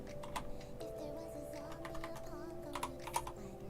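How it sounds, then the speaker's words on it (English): Someone types steadily on a computer keyboard close up, an even patter of key clicks running under low background music. "I'm not used to people being able to see my keyboard use. I don't normally type like this."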